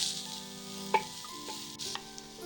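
Chopped green coriander, green chilli and mint added to lightly fried onions sizzle steadily in a pan, a constant close hiss with a couple of faint stirring clinks and no voices.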